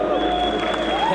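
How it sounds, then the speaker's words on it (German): A crowd applauds and cheers at a costume contest on stage at a gaming convention, a dense steady wash of clapping with a faint tonal hum running through it, continuous for a brief moment. "Ein großer Applaus für Kes hier."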